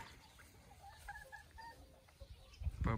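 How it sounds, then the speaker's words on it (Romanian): Chickens including a rooster cluck softly nearby in a farmyard, a few faint broken clucks over quiet background with some louder handling bumps near the end. "Aici cocoșul"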